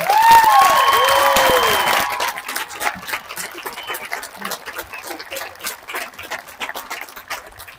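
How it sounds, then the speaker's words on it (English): A crowd at a 2021 high school graduation in Reno, Nevada cheers and whoops loudly at first, then settles into steady scattered applause for the school staff, with individual claps distinct toward the end. "let's give our AACT staff a big round of applause"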